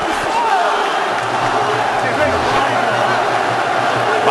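Irish fans cheering at a boxing match as McCloskey lands two right hands against Amir Khan: a steady, loud arena crowd roar with a commentator talking over it.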